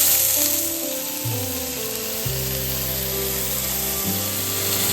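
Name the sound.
burger patty with onions smashed and sizzling on griddle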